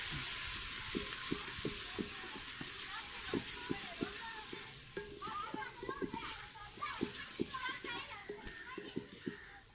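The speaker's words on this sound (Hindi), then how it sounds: "अभी इसको ब्राउन होने तक प्याज में पकाएंगे" Onions, ginger and garlic sizzle and fry steadily in a pot at a village cookout, with rhythmic stirring taps and a speaking voice over the crackle.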